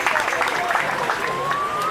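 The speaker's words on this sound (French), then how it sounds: "Vous pouvez vous applaudir vous parce que vous avez fait le déplacement." Audience applause in a crowd at a charity free jump event, a short burst of clapping heard close with voices mixed in.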